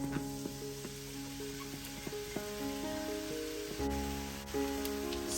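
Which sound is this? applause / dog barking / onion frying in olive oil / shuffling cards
onion frying in olive oil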